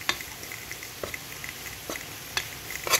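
Flour cooks in melted butter in a pan, a steady soft sizzle under the faint scrape and tap of a utensil stirring through the thickening roux, with a few light knocks against the pan.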